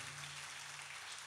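An audience at a church service claps hands together in a steady, dense wash of applause, continuous and fairly loud throughout, with no voices over it.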